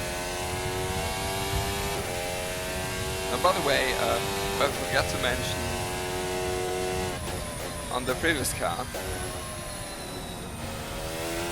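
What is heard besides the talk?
Mercedes Formula car engine in racing sim video game, Silverstone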